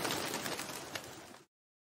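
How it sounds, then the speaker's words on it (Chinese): A flock of crows flies overhead in a cartoon, heard as a dense, steady rush of flapping and cawing that runs for about a second and a half before cutting off abruptly into silence. "突然天空中飞过一群乌鸦。"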